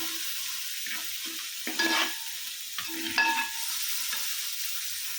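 Masala for sardine pickle being stirred in a pan after vinegar is added, soft sizzling with intermittent scraping strokes of a spoon, fairly close and quiet with no one talking.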